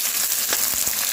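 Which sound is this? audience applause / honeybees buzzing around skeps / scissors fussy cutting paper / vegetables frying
vegetables frying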